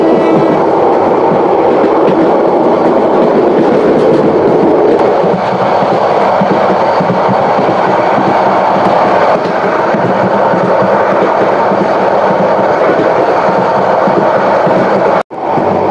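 The Subarna Express runs nonstop from Chattogram toward Dhaka with a steady, loud rumble of rolling wheels and rail noise, holding throughout with a brief dip near the end.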